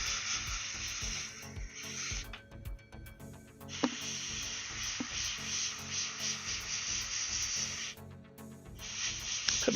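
An airbrush sprays paint onto a miniature in close, steady hissing bursts that stop and restart with short pauses, and faint clicks sound between the sprays.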